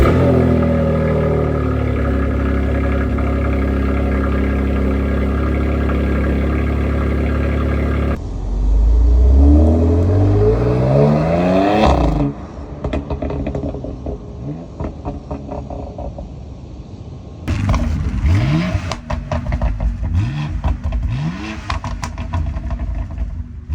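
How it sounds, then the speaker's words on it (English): A stock BMW X3 M exhaust first holds a steady low idle, then revs up hard in rising sweeps, followed by several loud passes as the car drives by, engine swelling and fading with each pass. "Let's see exactly how she sounds right now stock. Give her a little revs, couple drive-bys"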